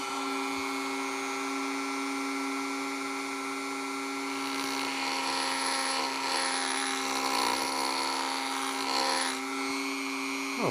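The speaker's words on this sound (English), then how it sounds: "I'm gonna clean them up quickly with the Dremel." A Dremel rotary tool whines steadily as it cleans up car parts on a 1972 Triumph GT6, a continuous high-pitched buzz held close and loud with small shifts in pitch and no talking.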